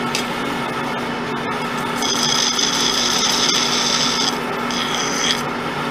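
A machined metal part on a Pratt & Whitney Model B machine being deburred with a file, giving a close, loud, continuous rasping scrape with a brighter grinding stretch in the middle, no talk.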